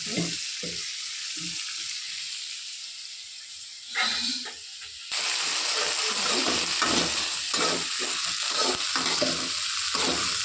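Ivy gourd pieces fry in a hot pan, village style, with a loud, continuous sizzle and occasional stirring scrapes close by.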